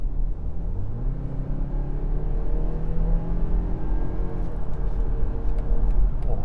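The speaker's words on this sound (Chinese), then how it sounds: "我突然间踩油" A 2021 BMW X3 xDrive30i M Sport accelerates hard, its engine drone climbing steadily in pitch as the revs build, loud and close throughout with a low road rumble underneath.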